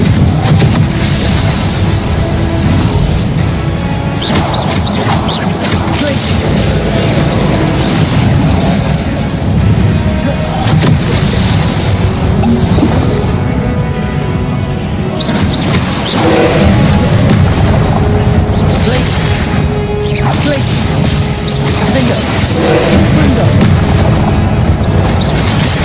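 Repeated Confringo fire spells bursting in Hogwarts Legacy, loud booming explosions going off one after another over a dense, continuous game soundscape.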